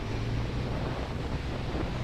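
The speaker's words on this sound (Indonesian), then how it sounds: "Panas, hanya angin kuat saja." Strong wind at sea during the north wind season, a loud, steady roar buffeting the microphone with a deep rumble of waves or a boat engine beneath and no talking.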